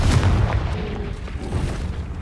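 Confringo explosion spell cast in the Hogwarts Legacy video game: a single deep, close boom at the start, then a rumbling decay with a faint crackle.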